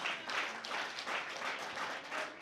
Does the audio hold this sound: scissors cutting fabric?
no